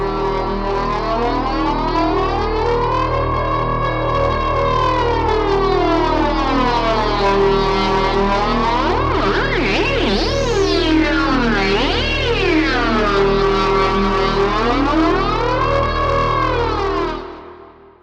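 A droning synth tone swept by a Behringer 172 phase shifter with feedback, its resonant whistling sweeps rising and falling continuously before fading out at the end.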